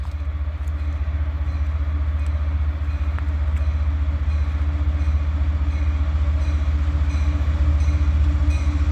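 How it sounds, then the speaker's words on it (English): A loaded freight train carrying grain or rock ballast rolls past close by, a steady heavy rumble of wheels and cars with faint clicks over the rails, continuous and loud throughout. "It looks like a train load of grain or something."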